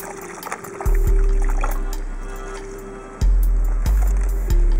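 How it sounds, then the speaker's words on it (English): About four liters of water pour into a box set around young tree roots in the desert near Dubai, a rushing splash under outdoor wind with sharp knocks between pours. "You add about 4 liters of water in the middle of the box."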